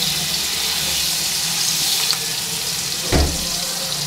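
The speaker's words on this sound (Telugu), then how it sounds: "ఈ చికెన్ని కొంచెం ఆయిల్లో వేపుకుందాం" Chicken frying in oil and butter in a pan makes a steady, close sizzle and hiss, with a brief clatter of utensils near the end.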